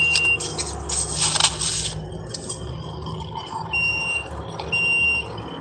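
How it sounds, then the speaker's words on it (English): Faint intermittent high beeping from an alarm or smoke detector somewhere in the background, sounding a few times over a steady low room noise. "You hear that beeping in the background?"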